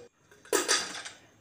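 A lid being set on a pressure cooker holding tomato, chili, ginger, garlic and water, a single close metallic clank with a short ringing rattle.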